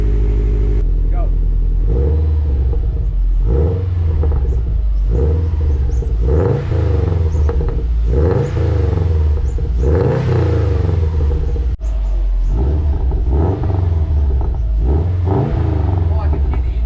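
Tuned Subaru WRX with intake, catless downpipe and boost control revving repeatedly, each throttle blip rising and falling in a loud deep engine roar with audible intake noise, people chatting under it.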